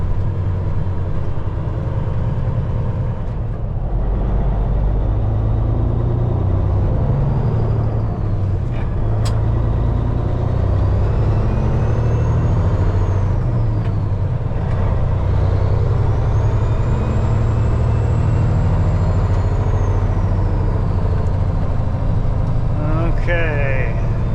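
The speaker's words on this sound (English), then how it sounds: "there's plenty of truck traffic just going straight through town" Trucks rumble through a town, heard from inside a cab: a steady low engine drone with passing traffic and a brief air-brake hiss, running under talk throughout.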